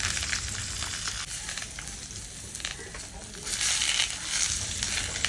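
Leftover bangda mackerel frying in a pan for a Koli-style stuffed fish dish, a loud, dense, continuous sizzle and crackle of hot oil with brief swells, no voices.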